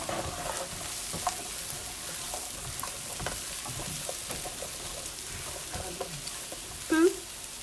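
Hamburger oil sizzles steadily in a pan for Salisbury steak while a utensil scrapes the bottom with scattered clicks and scratches; a short voice sound cuts in near the end.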